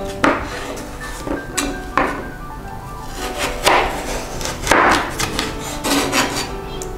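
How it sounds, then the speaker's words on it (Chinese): A knife cuts a peeled carrot into long strips on a cutting board, a series of irregular, close, sharp chops and taps with some scraping between them. "把红萝卜切成长条状"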